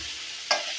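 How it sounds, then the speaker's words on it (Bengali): Shrimp being stir-fried in a pan for a spiced bhuna, a soft steady hiss with one brief sharp scrape or sizzle burst partway through, nearby and fairly quiet. "তো ভাইজা নিতে আসছি চিংড়ি মাছগুলো ভুনা করার জন্য।"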